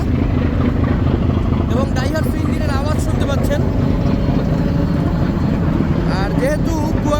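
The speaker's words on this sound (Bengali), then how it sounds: "আর এই হচ্ছে সেই বিখ্যাত টেকনোলজিয়া এবং ডাইহাটসু ইঞ্জিনের আওয়াজ শুনতে পাচ্ছেন।" Daihatsu engine of the Kuakata-2 river launch running below deck, a loud, steady, deep mechanical drone that fills the space throughout, with someone talking over it.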